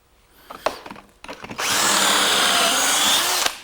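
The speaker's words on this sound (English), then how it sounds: "Now I want to put the pocket holes in these side boards." A drill bores pocket holes with a Kreg jig into wooden side boards for a table, whirring loudly and steadily for about two seconds after a few handling knocks.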